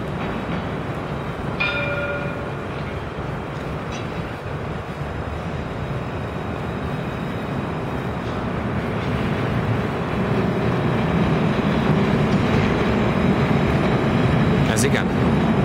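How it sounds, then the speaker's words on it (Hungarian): A tram in central Mulhouse rumbles past on its rails with a steady, building roar, a short bell-like chime ringing out near the start. "csodálatos villamos találkozás. Mühlhaus központjában."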